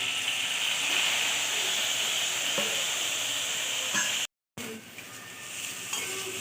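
Boondi frying in hot oil in a pan for a sweet dish, with a steady, close sizzle and stirring scrapes that cut out briefly to silence before the sizzle resumes.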